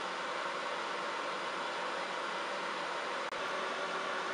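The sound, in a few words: Cookeo multicooker running during cooking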